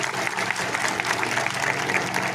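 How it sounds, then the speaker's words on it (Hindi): Steady crowd applause at a national Buddhist convention in Gorakhpur, India, dense and sustained, filling the whole stretch without a break. "उनके लिए एक बार ताली बजा के स्वागत कीजिए"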